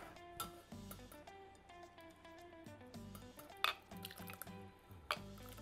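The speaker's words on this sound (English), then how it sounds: "See, guys, that's the chili that's straining." Red chili sauce for tamales straining through a kitchen strainer, with soft wet drips and occasional squishy splats, quiet and close, alone without talk.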